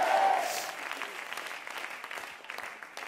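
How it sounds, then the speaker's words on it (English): A church congregation at a Sunday evening worship service claps and calls out, a fairly faint, diffuse patter of hands mixed with scattered voices, heard from a distance in a large room. "Clap your hands and shout yes"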